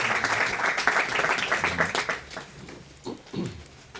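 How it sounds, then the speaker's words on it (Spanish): Seated audience at a heritage restoration conference panel in Aragón claps for the speakers, a full round of applause that thins out and fades into scattered claps and room noise. "Les damos un aplauso a todos por estar aquí con nosotros."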